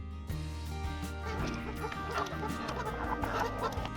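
Free-range roosters clucking on a farm amid a busy, continuous backdrop of other sounds and a faint voice, the fowl calls steady throughout.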